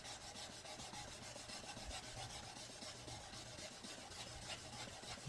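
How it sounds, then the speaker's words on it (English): A spokeshave iron is rubbed back and forth on 400 grit wet/dry sandpaper, a faint, continuous gritty scraping with a soft repetitive rhythm. "Just working on some 400 grit wet dry sandpaper"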